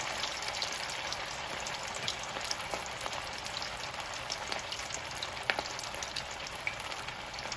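Escovitch salmon frying in a pan, Jamaican style: a steady, fine sizzle and crackle with small pops scattered through it, quiet and continuous, with no talking.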